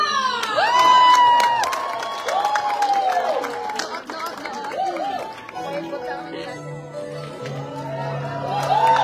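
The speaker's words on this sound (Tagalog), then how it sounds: "Isang malakas sa palakpak!" Large crowd cheering, shouting and clapping at a Duterte rally in Chicago, a dense roar with high whistles and yells that swells, dips midway and rises again, with chatter mixed in.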